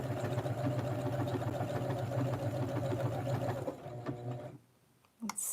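A sewing machine hums and rattles steadily while stitching a small retro blouse for a Barbie doll, then slows and stops, leaving near silence and a short clack at the end.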